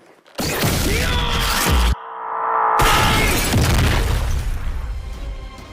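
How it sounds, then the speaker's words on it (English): Loud crashing and smashing bursts from an anime sound effect, a character kicked through a series of walls in Fire Force, with a brief lull before more rumbling debris follows. "Listen to Giovanni scream as he gets kicked through a series of walls at like Mach 12 in Fire Force."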